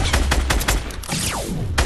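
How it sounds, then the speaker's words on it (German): Gunfire in Fortnite, a rapid volley of sharp shots in quick succession at close range, with a whooshing projectile sweep partway through and no talk. "Ich schieß den in der Mitte hier, den Oyo."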